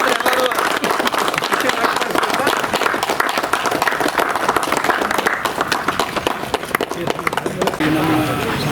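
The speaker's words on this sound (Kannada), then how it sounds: "ಚಪ್ಪಾಳೆ ತಟ್ಟು ಎಲ್ಲರೂ" Audience applause at a felicitation ceremony honouring a tahsildar, steady dense clapping that continues throughout, loud and close, with voices mixed in underneath.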